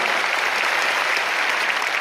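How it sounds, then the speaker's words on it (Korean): Convention audience breaking into a big round of applause, a thick, even roar of many hands clapping that holds loud and steady throughout the short stretch. "자, 우리 자신을 위해서 함께 큰 박수 한번 보내겠습니다."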